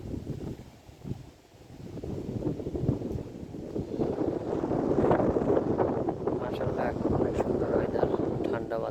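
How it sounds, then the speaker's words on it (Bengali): Wind blowing across the Shitalakshya river after rain, a steady rushing bluster that swells and stays fairly loud, with buffeting on the microphone and a voice speaking over it. "বাতাস বইছে"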